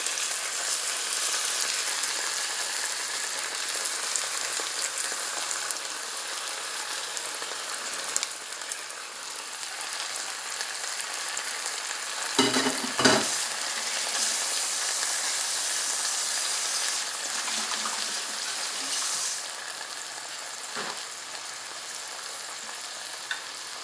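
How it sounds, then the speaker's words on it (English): White fish fillets brown lightly in hot oil for an Italian stew, a steady close sizzle with a brief louder crackle midway and a few faint clinks, and no one speaking. "just put your white fish fillets in there. Again, this is only a light browning that we're doing."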